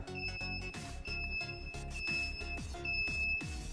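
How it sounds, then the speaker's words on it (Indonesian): A custom security alarm on a Suzuki Satria FU motorcycle wails in a fast repeating electronic pattern, high piercing tones over pulsing lower beeps, loud and continuous. "Ini alarm bunyi ya."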